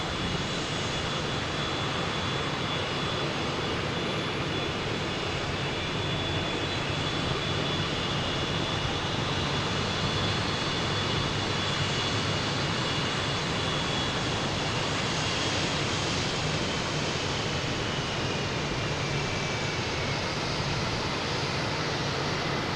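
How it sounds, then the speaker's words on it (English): A Cessna takes off at Boston Logan airport, and its aircraft engine makes a steady, broad roar that lasts throughout, loud and constant with no talk over it. "And the Cessna's about to take off itself."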